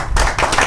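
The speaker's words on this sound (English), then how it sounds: "So a round of applause for them." An audience at a talk show on entrepreneur mindset applauds to welcome guests and speakers, a dense, loud, continuous patter of many hands clapping together.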